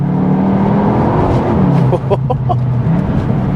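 Engine note of a front-wheel-drive Cupra Leon hot hatch, partly piped through the cabin speakers, heard as a steady, fairly loud low drone throughout with a slight change in pitch partway through.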